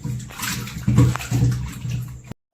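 Large chicken legs are rinsed under running water, with an uneven splashing and sloshing close by that keeps going for a couple of seconds before cutting off.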